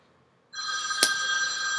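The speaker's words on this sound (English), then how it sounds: "oh, okay, my phone's going off" A mobile phone rings out suddenly, a steady, bright electronic ring that sustains without pause after a brief silence, fairly loud and close, with a short sharp click partway through.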